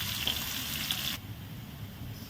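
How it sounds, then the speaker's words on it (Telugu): Onion frying in a pan, a steady close sizzle that drops off abruptly partway through and continues more quietly, with no voices. "సో 1 ఆనియన్ ఇలా ఫ్రై చేసుకోవాలి"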